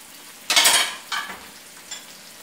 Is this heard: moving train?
no